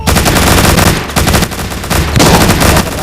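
Rapid bursts of automatic gunfire from a zombie shooter game set in a city, loud and dense, rattling almost continuously with a few brief gaps.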